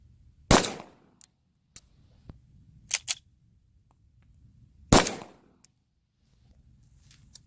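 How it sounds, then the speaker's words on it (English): Two sharp, loud shots from a compensated pistol fired in the dark in the desert ring out several seconds apart, with a few fainter clicks and knocks between them against a quiet background. "show you with unlighted shooting of the compensated pistol in the dark."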